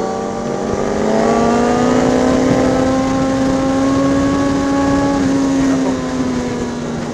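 A car passes close by on a street where someone is crossing, its engine rising as it nears and holding a steady drone across the whole stretch before easing slightly at the end.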